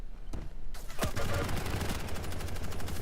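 Rapid machine-gun bursts in the arena shooter Quake Champions, played as a 1v1 match, rattle loudly and close. A sharp opening shot is followed by a continuous stream of fire.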